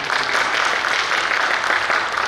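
An audience at a university graduation ceremony applauds, a steady wash of clapping from many hands, close and fairly loud for a couple of seconds.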